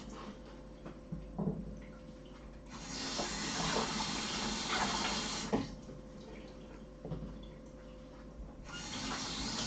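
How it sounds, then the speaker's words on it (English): Celery sticks being washed under a running kitchen tap, with a steady stream of water splashing and surging louder in two long stretches, close by; a brief spoken word at the start. "I'm just going to wash each celery stick"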